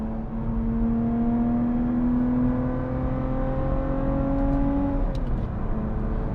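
Lotus sports car engine pulling steadily under acceleration from inside the cabin, a continuous rising drone that climbs smoothly for about five seconds before the pitch drops as the revs fall.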